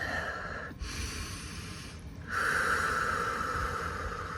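A slow, deep breath drawn in and let out during a calm guided heart-centred practice, a steady airy rush broken by a brief pause before a louder, fuller exhale that holds to the end, close and alone with no talking.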